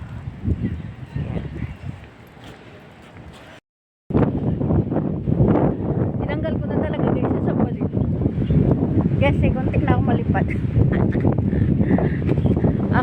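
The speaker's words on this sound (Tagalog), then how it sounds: "sobrang lakas ng hangin" Strong wind roars and buffets the microphone almost nonstop, broken by a brief silent gap, with muffled voices faintly beneath the rushing noise.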